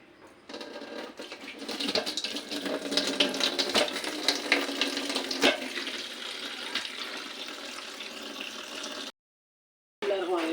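Raw beef pieces for bhuna are tipped into a pot of plain water and washed, with steady splashing and sloshing up close, loud and continuous for several seconds before a brief gap and more water noise.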